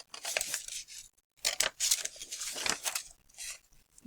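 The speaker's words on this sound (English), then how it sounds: "Cut up again to that line." Scissors snipping through paper along a marked line, a run of crisp, close cuts in irregular bursts with short pauses between strokes, no voices.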